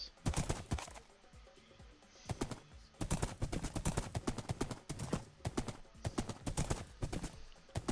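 Rapid, steady clip-clop of galloping horse hooves in Minecraft, close and loud, with brief pauses in the rhythm.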